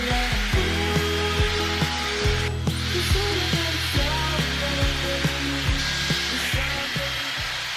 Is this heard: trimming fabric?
no